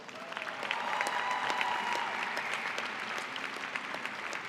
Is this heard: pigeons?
no